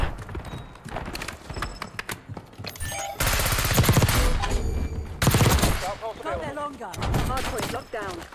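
Rapid automatic gunfire bursts in Black Ops 6, the AS VAL rifle rattling hard under heavy recoil, loud and close, cut between quieter stretches with a voice talking over the shooting.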